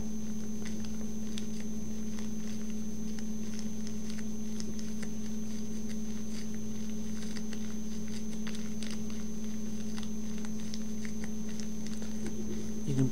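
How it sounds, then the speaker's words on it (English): A refrigerator runs at night in a quiet room, giving a steady low hum with a faint high whine that stays constant throughout, with small soft ticks and rustles over it. "You can probably hear the refrigerator going on in the background."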